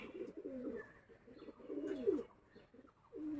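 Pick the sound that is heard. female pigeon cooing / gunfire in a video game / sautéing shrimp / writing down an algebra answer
female pigeon cooing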